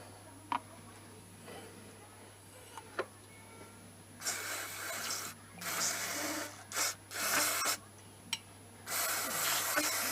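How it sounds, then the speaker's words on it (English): Bursts of brake cleaner hiss from a spray can onto a GSXR 600 fork, several spurts of varying length after a few quiet taps and scrapes. "That's just brake cleaner. I'm not putting anything too aggressive on it."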